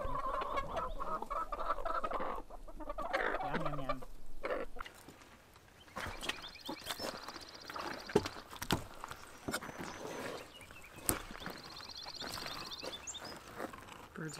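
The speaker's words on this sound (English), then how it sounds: "Birds are saying good morning too." Chickens cluck and call in the morning, near and fairly loud, with scattered footsteps and people chatting in the background; the calls come in short irregular bursts across a long stretch.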